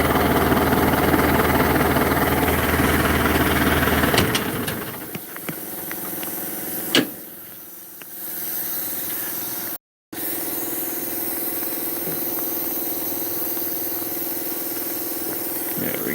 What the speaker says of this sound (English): I'm gonna shut the tractor off.